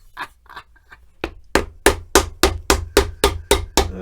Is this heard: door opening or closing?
no